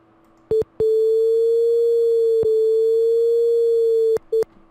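A steady synthesized sine tone generated from an animation in Houdini CHOPs holds a single pitch for about three seconds, with short blips before and after it and a tiny click partway through. It is loud and clean with no voices.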